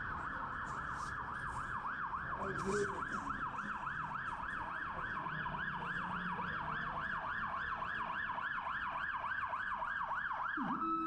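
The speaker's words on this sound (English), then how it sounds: "There's a police car," A wailing police siren sweeps up and down rapidly and continuously, loud and close, over traffic noise.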